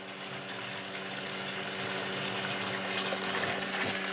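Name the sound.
fuel pump pumping gasoline into a gas can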